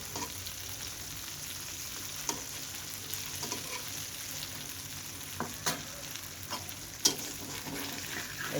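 Steady crackling sizzle of sarpunti fish frying in hot oil, with occasional sharper pops and spatters rising above the constant bubbling hiss.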